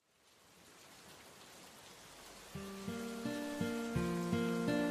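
Rain pours over a stormy city overrun by zombies, a rising steady hiss that builds from silence and later sits under a repeating sequence of low tonal notes.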